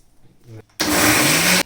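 A mixer grinder with a large jar roars on abruptly and runs at a steady, loud whir for under a second before cutting off, after a brief murmur.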